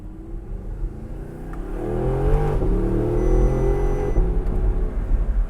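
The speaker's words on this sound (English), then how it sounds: "So we come around these corners, blip the throttle, and it's just a ton of fun." An exotic sports car's engine rumbles and swells as the throttle is blipped through corners, building from a steady drone to a louder, throatier rev heard from inside the cabin.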